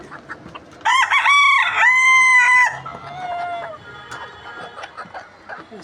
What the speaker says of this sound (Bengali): কত সুন্দর মুরগি